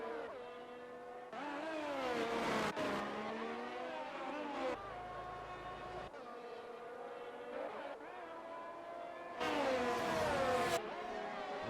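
Race cars in a racing video game roar through gear changes, engine pitch rising and falling continuously, loud and close, with brief cuts between camera views.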